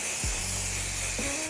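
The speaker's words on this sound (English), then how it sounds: "Now we get a muffin pan with some spray and cook." Cooking spray hisses steadily into a muffin pan for about a second and a half, a loud close continuous aerosol spray with no talking.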